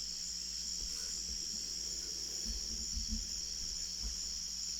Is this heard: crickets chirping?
yes